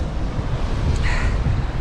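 Strong wind during a storm on the Crimean coast, a loud continuous roar of gusts buffeting the microphone with surf churning underneath.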